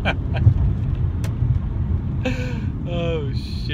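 A 2003 BMW E46 M3 with SMG gearbox pulls hard in first gear, a steady low engine rumble under wind noise inside the cabin, with brief voices breaking in near the end.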